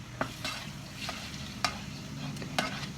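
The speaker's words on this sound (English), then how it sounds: "I have one small onion. I still have some chunks of butter in there, but I want to cook these onions down" Chopped onion cooks down in melted butter in a pan, sizzling steadily up close, with several quick stirring scrapes of a utensil against the pan.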